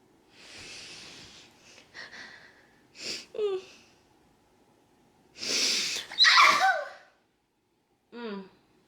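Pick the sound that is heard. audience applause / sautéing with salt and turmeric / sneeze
sneeze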